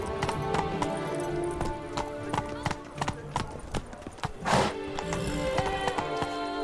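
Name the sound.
horse galloping in video game The Witcher 3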